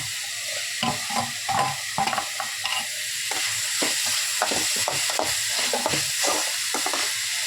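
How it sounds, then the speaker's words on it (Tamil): Onions and tomatoes fry in oil in a pan while being stirred repeatedly, a steady sizzle broken by frequent, uneven scraping and clinking strokes of a spoon, close and clear. "இப்போ வெங்காயமும் தக்காளியும் வதங்குற வரைக்கும் நம்ம நல்லா கலரி விட்டுக்கலாம்"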